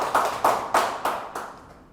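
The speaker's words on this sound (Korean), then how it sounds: "와, 박수 소리 크고 좋네요" Applause from a lecture audience in bursts of hand claps, about five loud swells that fade toward the end, with no talking over them.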